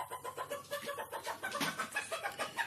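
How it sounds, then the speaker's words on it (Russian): Bantam chickens clucking in a rapid, steady run of short calls, close by, with one louder squawk partway through and no talking over them. "Это у нас бентамки"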